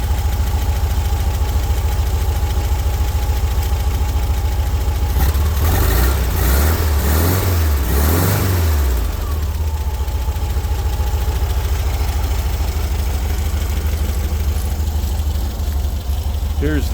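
An air-cooled VW 1600 cc engine idles after a cold start following six months of sitting, a loud steady low thrum with a brief rise and dip in revs near the middle before settling back.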